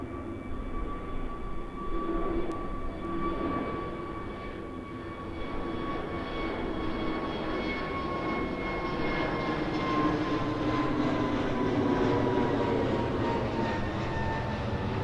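A Pegasus Airbus A320neo at Birmingham Airport produces a loud, continuous jet engine roar with a steady high whine running through it, sustained for about fifteen seconds without a break.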